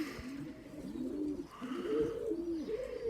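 Stock pigeons in a loft coo in soft, rolling, repeated calls close by, several overlapping birds in a low steady murmur, with no talking.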